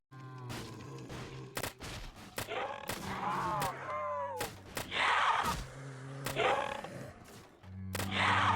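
Rapid bursts of PM-9 submachine gun fire in the Roblox zombie game Project Lazarus, loud and close, with repeated short volleys separated by brief gaps and mixed with growling creature noises.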